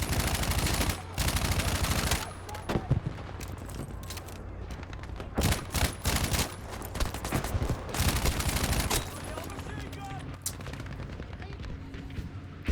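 Loud bursts of SMG fire in a first-person shooter, rapid automatic volleys repeating with brief gaps, mixed with explosions and game sounds, while people talk faintly underneath.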